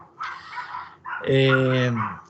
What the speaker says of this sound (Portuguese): os cachorros dele estão latindo aí, mas daqui a pouco eles param